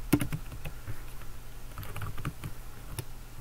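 Keys clack on a computer keyboard in short scattered bursts, a few sharp taps among softer ones, fairly faint against a low background hum.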